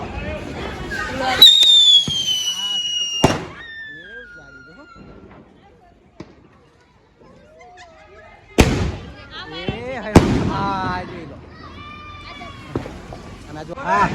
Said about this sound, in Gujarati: કેનાથી મોટો બધો બોમ્બ ફોડે છે